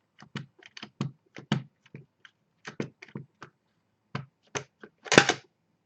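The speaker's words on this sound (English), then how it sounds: "Let's just stamp it out right on the card." Rubber stamp pressed down onto a handmade greeting card, a series of sharp close taps and thumps in irregular clusters, ending in a louder, fuller knock.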